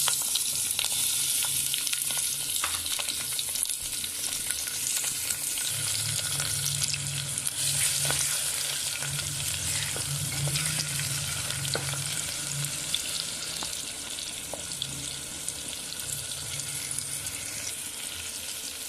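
Tomatoes and green chillies fry loudly and steadily in a pan for a curry. The sizzle runs the whole time with faint stirring scrapes and no voices.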